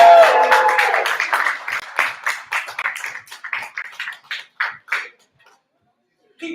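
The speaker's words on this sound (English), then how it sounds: "Keep that round of applause going for Nina." Poetry slam audience applauds, a dense burst of clapping that thins into scattered individual claps and fades to near silence, with a final clap at the end.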